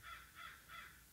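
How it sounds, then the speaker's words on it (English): Crows caw outside in three distinct, evenly spaced calls, moderately distant and fairly faint, with no voices over them. "We're going to hear crows and shit."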